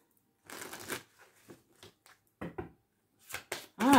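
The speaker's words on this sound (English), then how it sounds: "Let's do one more shuffle." Tarot cards shuffled by hand in several quick bursts, a papery riffling and slapping that comes in short clusters separated by pauses, close and fairly quiet with no talk.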